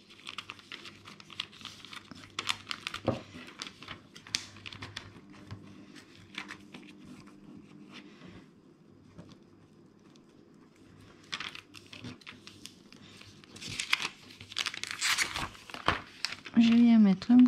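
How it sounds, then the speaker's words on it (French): Adhesive tape is torn from a roll and pressed onto paper while making an A4 folder, giving crinkly tearing and rustling bursts between quieter handling noises, with a voice speaking over parts of it. "je viens mettre un bout de scotch là au bout pour le faire tenir"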